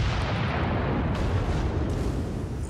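Naval gunfire from warships in a video game: a heavy, continuous rumble of booming shots and blasts, close and loud with no pauses and no voices.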